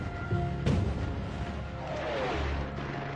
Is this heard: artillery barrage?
yes